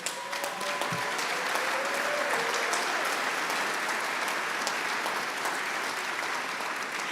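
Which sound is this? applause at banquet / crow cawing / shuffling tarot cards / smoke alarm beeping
applause at banquet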